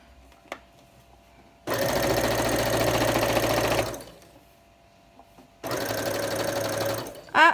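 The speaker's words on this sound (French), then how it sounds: "Et j'y vais en cousant à peu près à 1 cm du bord." A sewing machine stitches fabric about 1 cm from the edge in two loud, steady bursts of rapid mechanical whirring, separated by a quiet pause, heard up close with no talking.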